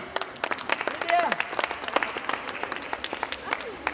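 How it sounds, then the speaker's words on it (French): Schoolchildren clap for themselves after a movement exercise, sharp uneven hand claps near and loud, with a voice chiming in and chatter underneath. "vous pouvez vous applaudir"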